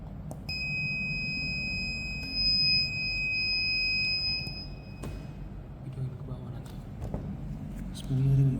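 A steady high-pitched electronic buzzer tone from a simple home security alarm circuit sounds for several seconds, then cuts off, over a background hum with occasional clicks.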